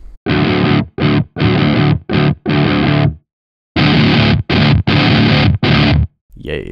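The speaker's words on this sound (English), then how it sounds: "So I'll show you it without fuzz and with fuzz" Korn-style heavy guitar played through a fuzz distortion plugin, with loud, dense chugging bursts in rhythmic blocks and a short pause partway through.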